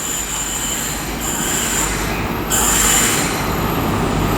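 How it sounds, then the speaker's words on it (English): A ScotRail HST formed of power car 43031 arrives at Stirling station on the 10:48 Aberdeen to Glasgow Queen Street service, running about seven minutes late: a steady, loud rumble of wheels and squealing flanges that swells partway through, with no talk. "next train to arrive is the 1048 ScotRail service from Aberdeen to Glasgow Queen Street, formed of a HST"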